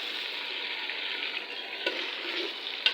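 Chicken frying in oil in a pan, a close, even hiss throughout with a couple of soft knocks from a utensil.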